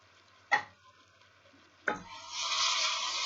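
Two short scraping stirs of daal mash with tomato and onion in a frying pan, followed by a rising steady sizzle, close and moderately loud with no voices.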